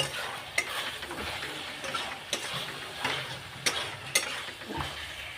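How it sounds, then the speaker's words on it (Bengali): Spice masala with tomato being sautéed in a pan for a boneless meat curry, a steady sizzle and fry under irregular scraping stirs and sharp spoon clicks against the pan, close and moderately loud with no talk. "মশলাটা ভালোভাবে কষানো হয়ে গেছে"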